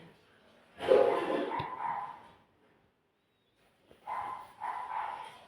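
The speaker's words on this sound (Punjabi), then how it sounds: "ਸਾਡੇ ਕੁੱਤੇ ਨੇ ਸਾਨੂੰ ਕਮਲੇ ਕਰ ਰੱਖਿਆ ਕੋਈ ਆ ਜੇ ਫਿਰ ਭੌਂਕਣੋਂ ਨਹੀਂ ਹਟਦੇ ਇੰਨਾ ਭੌਂਕਦੇ ਬਹੁਤ ਜ਼ਿਆਦਾ" A pet dog at home barks in two loud bursts with a silent gap between, close by and alone.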